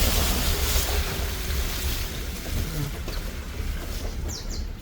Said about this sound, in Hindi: सारा पानी इसी में से आ रहा है।